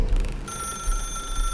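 Telephone ringing in the video game The Stanley Parable, a bright electronic bell trill that starts loud, then settles into steady sustained ringing tones for over a second with no voices.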